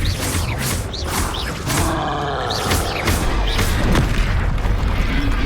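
Bombarda blasting spell in the Hogwarts Legacy video game, heavy booming explosions with thuds and roaring debris over a dense, continuous game soundtrack, loud throughout.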